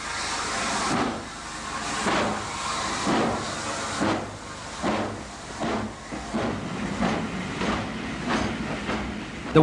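A 1960s steam locomotive hauling a Newport to Shrewsbury express on a British main line gives off rhythmic, heavy chuffing exhaust beats with a constant steamy hiss, fairly close and steady throughout.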